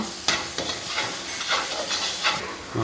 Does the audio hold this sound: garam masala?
yes